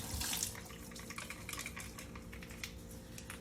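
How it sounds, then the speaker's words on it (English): Barber tools taken from disinfectant are rinsed under running tap water, a soft steady splash with faint clinks of metal, quiet and close with no voices. "Thoroughly rinse these."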